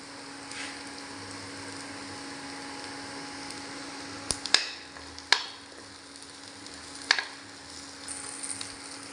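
Cumin seeds frying in hot oil with onions in a pan: a faint, steady sizzle throughout, with a few sharp utensil clinks midway.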